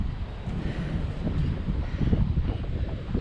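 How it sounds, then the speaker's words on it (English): Winter wind gusting outdoors at a woodland bushcraft shelter build, buffeting the microphone with a steady low rumble and rough swells, with no talking. "Wind's picking up a little bit as well"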